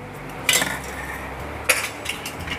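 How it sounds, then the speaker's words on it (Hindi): A pressure cooker lid is lifted while cooking a potato and soya chunk curry, giving two sharp metallic clinks of pot and utensils over a low steady background, close and fairly loud. "अब कुकर का ढक्कन उठाकर हम अपनी सब्ज़ी को चेक कर लेते हैं।"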